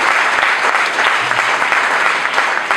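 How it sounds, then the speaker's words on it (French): Wedding guests applauding, a steady burst of dense clapping from a gathered crowd that carries loud and close through the whole moment. "Applaudissons pour sa voiture."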